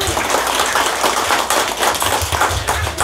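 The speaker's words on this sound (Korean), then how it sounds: "네 박수" Dense, steady clapping from a crowd at a Korean seventieth birthday banquet, loud and continuous for the whole stretch with no voice on top.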